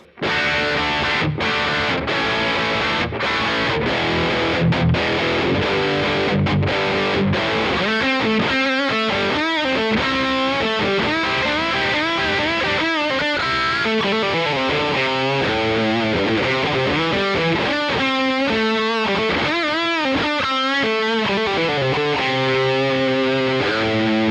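A heavily distorted electric guitar through a modelled Marshall JCM 900 amp with boost, 1x12 cab and room reverb on a Mooer Prime P2, chugging chords and riffs, crunchy, loud and continuous throughout.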